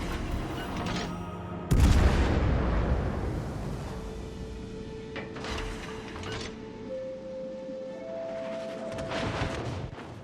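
Heavy naval guns from a warship in World of Warships: Legends boom loudly once, then a rumbling battle soundscape continues with softer distant reports and mechanical tones.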